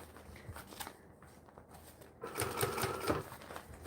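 A sewing machine stitching and back stitching fabric, faint rhythmic clattering runs that pause briefly and then pick up louder and busier toward the end, with no talk.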